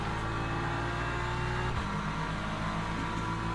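A hypercar engine in the racing game Le Mans Ultimate, during a multiclass race at Silverstone, drones loud and steady with a constant low tonal hum and no speech over it.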